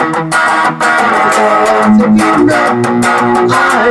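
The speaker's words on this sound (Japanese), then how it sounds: "この歪みとエフェクターを使うと、まあ、基本的なロックとかポップスとかは大体対応できるという感じですね。" Distorted electric guitar through an effects unit, played in a rock style with sustained, saturated chords and a few single-note lines, loud and continuous with no talking.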